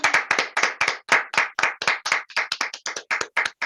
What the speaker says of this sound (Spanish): Un fuerte aplauso a nuestro Señor Jesucristo.